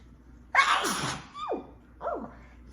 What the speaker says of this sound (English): I keep having these big sneezes.